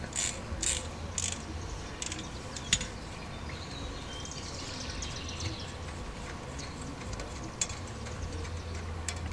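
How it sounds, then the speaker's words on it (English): A ratchet with a 14 mm socket clicks while loosening brake caliper bolts on a 2002 Ford Explorer in a back yard, quiet rapid pawl ticking in short runs over outdoor ambience with faint birds or insects. "14 millimeter socket to get the 2 bolts holding the caliper on"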